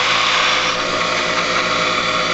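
A drill press runs flat out at its top speed in a workshop, giving a steady, loud, unbroken mechanical whir that holds evenly throughout with no voices.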